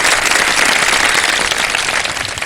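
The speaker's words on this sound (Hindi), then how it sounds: "ढेर सारी तालियों में सेगमेंट का आगाज करते हैं।" A studio audience claps loudly on the Shan e Iftar show to open a question segment. Dense, continuous applause fills the whole stretch at close range, easing slightly toward the end.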